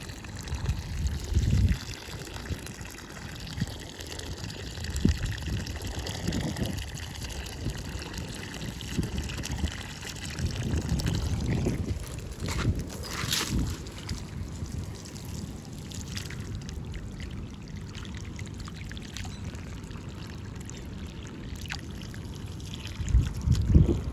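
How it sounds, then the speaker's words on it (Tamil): Irrigation water running into a banana garden, a continuous gurgling and splashing flow close by, rising and falling in strength over about twenty seconds with no talk. "இதில் நல்லா தண்ணி வருது"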